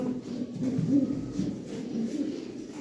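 Pigeons coo nearby in low, rolling, throaty calls that repeat and overlap softly throughout.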